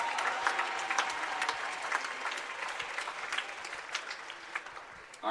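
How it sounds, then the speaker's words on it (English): Gym crowd at a high school boys basketball game claps for a senior player on senior night, steady applause at moderate volume with scattered sharp claps and faint cheers, fading slightly toward the end. "Let's have a round of applause for number 33, Mason Thompson."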